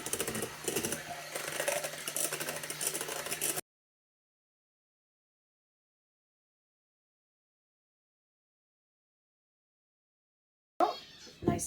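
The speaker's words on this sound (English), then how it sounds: "what I want to do now is I want to mix these until they're fluffy" An electric mixer whirs close up as it beats egg yolks in a small bowl until fluffy. The buzzing motor runs steadily for a few seconds, cuts to silence, then starts again briefly at the end.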